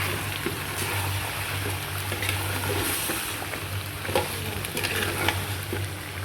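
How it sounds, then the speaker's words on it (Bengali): Broiler chicken and potato curry being stirred in a pan, a steady frying crackle with soft scraping strokes and occasional sharper clicks of the spoon, close and fairly loud, with no voices. "খুলে আবার একটু নাড়াচাড়া করে দিব, যাতে মশলাটা নিচের থেকে না লেগে যায়"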